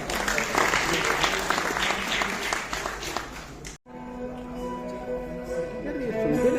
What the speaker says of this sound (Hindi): बच्चों के उत्साहवर्धन के लिए आप सबकी जोरदार तालियां उठे